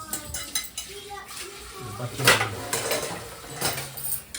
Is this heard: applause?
no